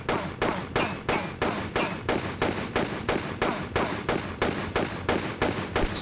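Rapid, steady gunfire from a character shooting at approaching knight enemies in a Tomb Raider custom level, with sharp shots repeating about every third of a second for several seconds, loud and close.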